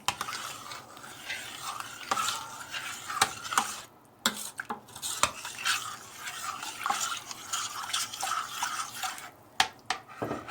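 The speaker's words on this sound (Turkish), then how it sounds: "kaynamış suyu bu şekilde üzerine katıyorum. Şöyle karıştırıyorum." A spoon stirring tarhana soup in a pot after boiled water from the kettle is added, with repeated scraping and clinking strokes against the pot, close and fairly clear, with no talking.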